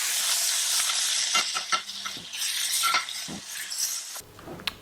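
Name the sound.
food searing in a pan as crust develops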